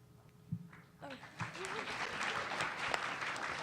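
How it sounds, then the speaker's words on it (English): Polite, light audience applause at a convention panel, scattered clapping that builds after a moment and holds steady, with a voice speaking briefly over it. "You're like golf claps."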